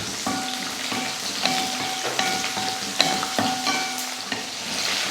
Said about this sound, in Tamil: அதே போல் ஒரு 10 பல் பூண்டு, இதையும் வதக்கிடலாம்.